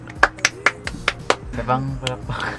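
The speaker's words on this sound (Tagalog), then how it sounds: "Isa pang palakpak." Renewed applause at a UST Paskuhan 2018 gathering: about six crisp, quick hand claps in a steady run, close by, followed by people talking.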